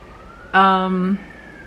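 A short, steady ambulance siren tone rises over faint background hum, holding for about half a second before cutting off.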